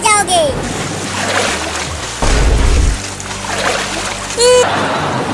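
Splashing water with bursts of turbulent sloshing, a louder splash near the middle, while children's voices and squeals come and go over it outdoors.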